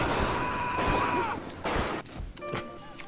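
Gunfire in the video game Bioshock, with a sustained burst of loud shots and crashing impacts over a steady game soundscape.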